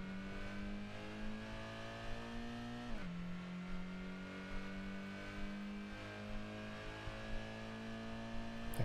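A steady car engine drones in Gran Turismo on PSX, holding a constant pitch that drops once at a gear change and then climbs again, loud and close with no talk.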